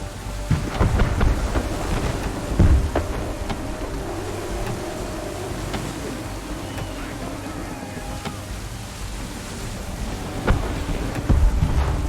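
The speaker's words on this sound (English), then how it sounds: "There's a storm coming, Captain. Feels like a big one." A thunderstorm with heavy rain sweeps over the open sea in Assassin's Creed 3, a dense, constant hiss of rain and wind punctuated by deep rolls and cracks of thunder near the start and again toward the end, loud and enveloping.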